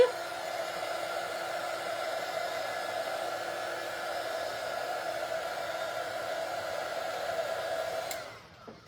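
A hair dryer blows continuously to dry acrylic paint on a patriotic firecracker craft, a loud steady whoosh that cuts off near the end.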